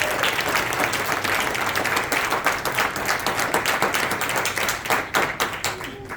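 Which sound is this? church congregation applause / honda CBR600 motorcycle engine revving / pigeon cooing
church congregation applause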